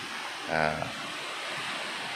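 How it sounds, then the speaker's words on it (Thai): Strong ocean waves on an Andaman Sea beach make a steady, broad roar of surf throughout, with a brief voice rising over it near the start. "คลื่นวันนี้คลื่นคลื่นแรงครับผมคลื่นเยอะครับผม"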